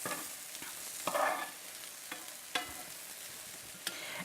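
Turkey meatballs simmering in cream of mushroom soup in a pan give a soft, steady sizzle, with a few sharp utensil scrapes and taps on the pan and one brief louder bubbling burst.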